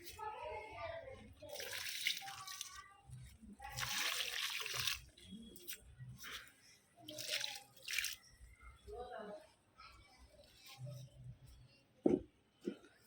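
Potash fertilizer water is poured onto potted flowering plants in bursts of splashing and trickling, near and moderately loud, with quieter gaps and a sharp knock near the end.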